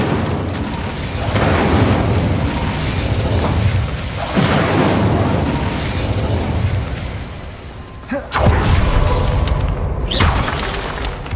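The Incendio fire spell is cast in the Hogwarts Legacy video game, loud whooshing bursts and booming blasts from the fire effect, several surges in a row with a sharp crack near the end.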